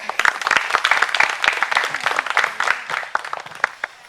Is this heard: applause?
yes